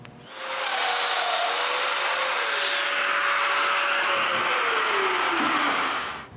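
A power drill bores mortises into the sides of a wooden bathroom cabinet, whining steadily at close range for about six seconds. The pitch sags as the bit bites deeper into the wood, then winds down at the end.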